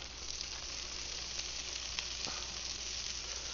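Blackened tuna searing in a hot pan, giving a continuous, fairly soft sizzle with a few faint pops and spatter ticks, with no voices.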